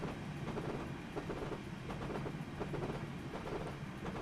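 A train runs along rails in the video game Train Simulator 2015, a continuous loud rumble with steady rhythmic clicking of wheels over track joints, heard from outside the train with no talking.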